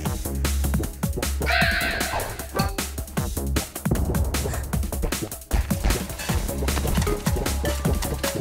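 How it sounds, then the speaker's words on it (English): Crows cawing in the video game A Hat in Time, repeated loud harsh caws over busy game music and effects, with several calls overlapping throughout. "I'm harassing all the birds."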